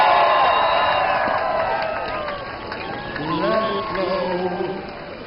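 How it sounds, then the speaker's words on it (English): A crowd claps and cheers for surfer Kelly Slater, the Hurley Pro 2012 champion, in a broad, sustained wash of applause with a voice speaking over it. "I want to hear some clapping, and I don't want it to stop for your champion"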